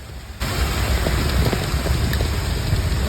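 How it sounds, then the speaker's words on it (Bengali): Drizzling rain in Dhaka hisses as a steady, broadband wash that jumps louder shortly after it begins and then holds even, with faint scattered patters over the constant downpour. "আজকে আবার সারাটা দিন ধরে ঢাকায় ঝিমঝিম বৃষ্টি"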